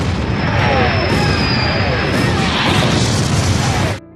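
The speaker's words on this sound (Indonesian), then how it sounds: "mendapat serangan jarak jauh dari artileri milik Inggris" British artillery fire in a wartime scene, a dense continuous rumble of booms and bursts with a high whistling tone drifting across, loud and sustained before cutting off abruptly near the end.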